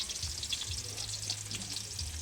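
Onions fry steadily in a pan for adobong native, a continuous bright sizzle and crackle heard up close with no talking.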